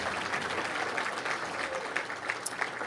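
A conference audience at a real estate symposium applauds board members, a dense, steady wash of clapping from a roomful of people at moderate distance throughout.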